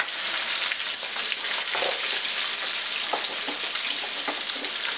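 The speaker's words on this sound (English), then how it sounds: "It's frying real good now, so in a few minutes, it's going to be golden brown" Frog legs frying in hot oil at home give a steady, loud sizzle with continuous crackle and small pops, alone with no talking throughout.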